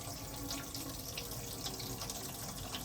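Water gushes from a caravan kitchen tap in a steady, close, continuous stream splashing into the sink, alone without any voices.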